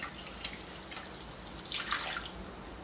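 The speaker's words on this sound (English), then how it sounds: "then we put a little bit of water on top" Water is splashed into an emptied tomato can to rinse leftover sauce into a rosemary bolognese, giving soft splashes and dribbles, quiet and close, with a brief stronger pour near the end.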